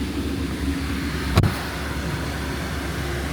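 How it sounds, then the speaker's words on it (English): A new Jeep creeps forward a foot or two in deep snow during a New York City blizzard, its engine a low, steady hum with one brief knock midway and no voices. "What I'll do here is I'll drive forward a foot or two"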